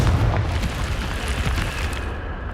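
A Confringo blasting spell exploding in the video game Hogwarts Legacy, a loud, dense rumbling blast that roars steadily for a couple of seconds before easing slightly.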